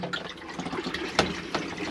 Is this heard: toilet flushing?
yes